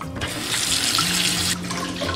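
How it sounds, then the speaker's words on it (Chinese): Pork being rinsed clean under a running kitchen tap, a steady close splash of water into a sink that swells briefly and then settles. "用温水给它刮干净。 刮过后，我们给它清洗干净。"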